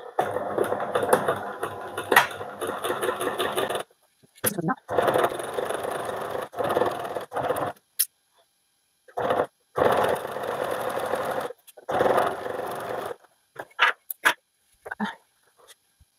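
A sewing machine set to 3.5 stitch length stitches a Simplicity blouse in short, rapid mechanical bursts separated by pauses, close and clear.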